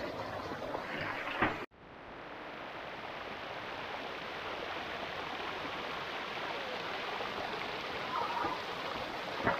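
A clear shallow stream on the outskirts of Hue, Vietnam, rushes in a steady, close, even wash; a brief sharp knock cuts in near the start before the flow resumes alone.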